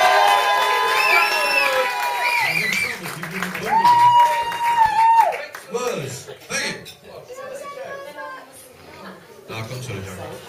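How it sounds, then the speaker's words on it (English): Awards-night audience at a golf hotel cheers, whoops and claps for the evening's host, loud near shouts and excited voices mixing with clapping and chatter, with people talking throughout. "let's have another round of applause for our host this evening"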